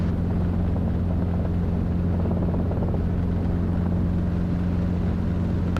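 Robinson R22 helicopter flying a steep approach during flight instructor training, a loud constant rotor and engine drone with steady low beating heard from inside the cabin.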